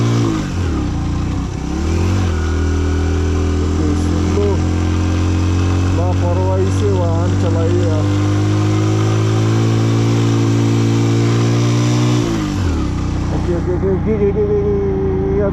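A Hero Passion Pro motorcycle engine labours on a steep uphill mountain road, its drone rising and holding under load for several seconds, with a rider talking over the engine.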